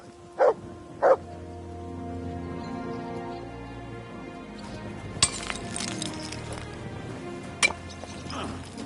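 Dog barking in Kingdom Come Deliverance 2, two loud close barks in quick succession at the start, followed by a quieter stretch with scattered clinks and light game ambience.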